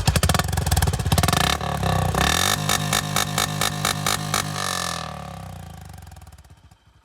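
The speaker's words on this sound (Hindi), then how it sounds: "तो भाई ये था होंडा CB का एग्जॉस्ट नोट।" A Honda H'ness CB350 motorcycle exhaust revs hard up close, a loud rattling roar that climbs, pulses through several bursts, then drops back and fades toward idle.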